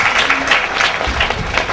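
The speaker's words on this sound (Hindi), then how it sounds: "जोरदार तालियां।" Loud, dense applause from a studio audience at a televised talent show, a continuous burst of many hands clapping together with faint crowd noise beneath.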